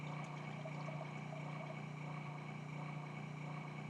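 Food processor churning flour, sugar and cooled melted butter into pastry dough, a steady loud motor whir with a low hum running throughout, no talking.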